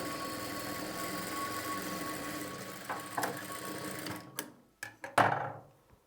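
A tailoring sewing machine stitching at a steady mechanical whir that runs evenly, then stops and gives way to a few short clunks and rustles near the end.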